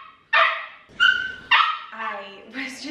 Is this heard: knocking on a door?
no